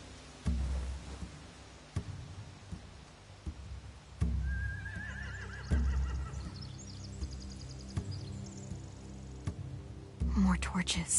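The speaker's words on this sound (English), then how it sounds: "They have horses." Horses in The Walking Dead final-season video game whinny and neigh in a clear high rising call mid-scene, with faint hoof clops and low game ambience around it.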